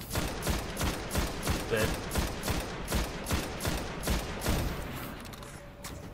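Rapid automatic gunfire in the shooter video game Destiny (The Taken King, PS4/Xbox One) rattles in fast, evenly spaced bursts, loud and close, with a brief spoken word mixed in before the firing tapers off.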